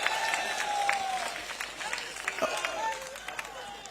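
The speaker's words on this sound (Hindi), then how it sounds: "जोर से ताली बजाइए नारायण सिंह के लिए" A large crowd claps for candidate Narayan Singh Dewal at a BJP election rally in Raniwada, a steady wash of applause and crowd noise running beneath someone speaking over a loudspeaker.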